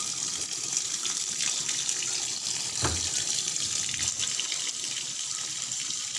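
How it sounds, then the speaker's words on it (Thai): Water gushes steadily from a tap while clothes are being washed, a continuous close hiss and splash running unbroken throughout with no voices. "เปิดน้ำก่อนครับ"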